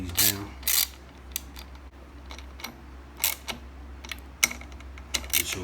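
Bolts being tightened on a light bar bracket of a Ford Bronco, with short bursts of ratchet clicking and metallic taps spaced irregularly, close by over a steady low hum, no talking.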